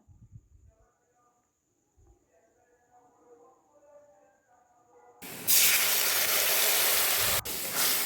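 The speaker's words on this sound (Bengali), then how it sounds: "এবার কড়াইতে তেল দিয়ে" After several quiet seconds with faint background sounds, cumin seeds hit hot oil in a wok and burst into a sudden, loud, close hissing sizzle that holds steady to the end.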